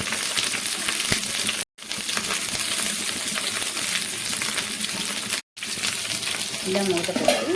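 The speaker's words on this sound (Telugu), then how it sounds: "ఇలా స్టఫ్ చేసుకున్న క్యాప్సికమ్ను ప్యాన్ పెట్టి ఆయిల్ వేడి చేసుకొని" Stuffed capsicum fries in hot oil in a pan, giving a dense continuous sizzle, close and loud, broken by two brief cuts to silence, with a little faint clatter near the end.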